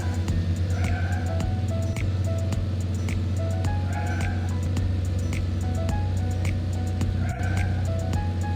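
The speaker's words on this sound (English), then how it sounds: "Drive the truck to deliver goods." A cartoon delivery truck drives along with steady engine sound and repeated tire squeals, loud and close, set against continuous bright music throughout.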